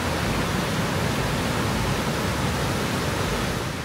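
Linville Falls river rushing through rocky narrows just downstream of the falls, along the Blue Ridge, a loud, dense, unbroken roar of water filling the whole clip with no voices.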